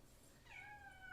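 A pet cat gives a single faint, brief meow from somewhere nearby in a quiet kitchen while bananas are peeled, rising late in the moment and trailing off.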